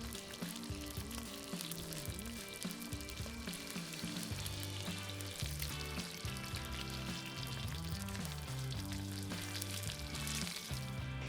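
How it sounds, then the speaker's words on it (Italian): Breaded vegetable balls fry a few at a time in well-heated oil, a continuous crackling sizzle running under steady background music. "E adesso si frigge. Pochi pezzi per volta in olio ben caldo."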